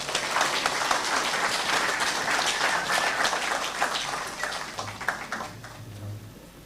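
An audience applauds at the opening of the Meru University Science and Technology International Conference 2025, a sustained, dense patter of many hands clapping in a hall, fading slightly toward the end.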